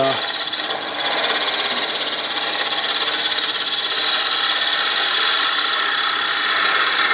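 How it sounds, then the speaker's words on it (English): Steady, continuous scraping hiss of a spindle gouge cutting a poplar vase on a wood lathe, close and loud, running unbroken without talk. "I might spend a whole lot of time working with my spindle gouge"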